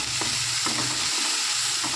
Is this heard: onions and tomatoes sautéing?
yes